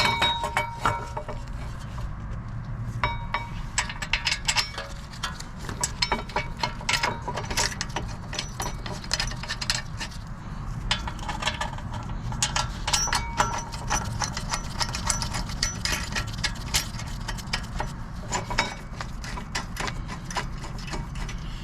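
Brake caliper bracket being fitted to the front of a 2016 Kia Sorento 3.3, a continuous stream of metallic clicks and ratcheting from hand tools, close and steady with no talking.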